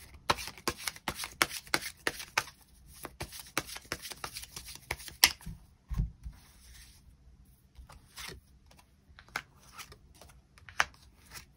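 Tarot cards are shuffled and drawn in a quiet room: a rapid run of crisp riffling card flicks, then scattered softer slides and single taps as cards are pulled and laid down, close and fairly quiet with no talk.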